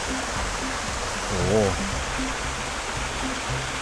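A small waterfall at a cafe in Nakhon Pathom, Thailand, rushes in a steady, even hiss while someone talks briefly over it.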